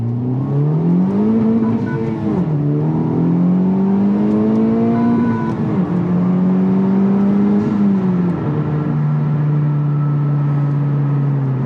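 Honda Civic Type R FL5 accelerating hard from the cabin, engine note climbing steadily through the revs with brief dips at each gear change, loud and continuous with no talk.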